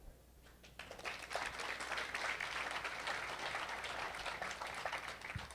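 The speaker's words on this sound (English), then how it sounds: "let's again be a big round of applause and be grateful for all of our Vietnam veterans" An audience gives a round of applause for Vietnam veterans at a driver appreciation event: after a quiet moment, the clapping swells into a full, sustained burst that holds steady, with no talking over it.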